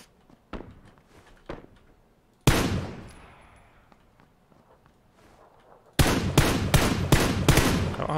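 Gunfire from a Groza rifle in the video game PUBG: a few isolated shots early, one heavy burst with a long echoing tail, then a rapid loud string of automatic fire at the end.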